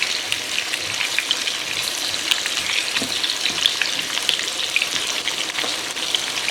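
Onion rings frying in a pan for Indian reshmi kebab, a steady dense sizzle with crackling pops throughout, loud and continuous with no pauses.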